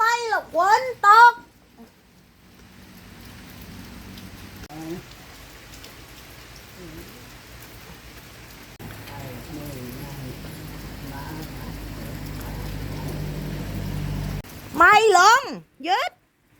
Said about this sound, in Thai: เห็นไหมว่าฝนตก